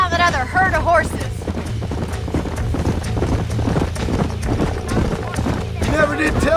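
Hooves of galloping horses in the Western video game Red Dead Redemption, a rapid repeated clip-clop running throughout, overlaid by game dialogue, music and an occasional whinny.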